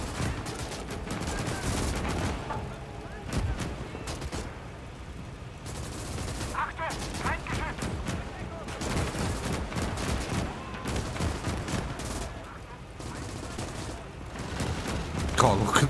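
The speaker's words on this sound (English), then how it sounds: "Them 30mm cannons are insane." Rapid bursts of 30mm cannon fire and other gunfire crackle through a World War II eastern-front battle in Call to Arms - Gates of Hell: Ostfront, dense and continuous with occasional heavier booms, while someone talks over it.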